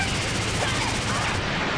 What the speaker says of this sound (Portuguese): o Champa vamos pegar ele na explosão de meteoros